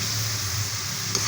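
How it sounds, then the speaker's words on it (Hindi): Masala frying in oil over medium heat, a soft continuous sizzle close by with no talking. "मैंने मीडियम आंच पे मसाले को अच्छे से भूनने हैं।"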